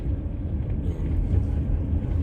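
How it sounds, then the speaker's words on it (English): Strong wind buffets the microphone with a constant low rumble and roar, steady and loud for the whole moment, no voices. "see how windy it is."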